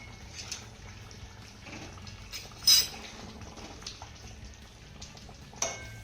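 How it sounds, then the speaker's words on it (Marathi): A lid comes off a pan of steamed gram-flour rolls with one sharp metallic clink, then a second lighter clink follows over a quiet background of faint bubbling. "त्यावरचं झाकण काढूया"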